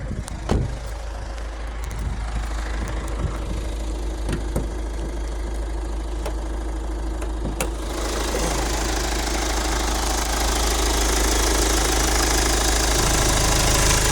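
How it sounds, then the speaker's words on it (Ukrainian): A 2010 Hyundai Santa Fe engine idles steadily nearby with a low, even rumble and a faint knocking rhythm, growing slightly louder later on, with no talking. "Ось, дивіться, як працює мотор."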